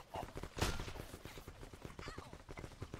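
Gunfire in the blocky first-person shooter Block N Load comes as a quick series of rapid shots, with one louder blast, all fairly quiet in the game mix.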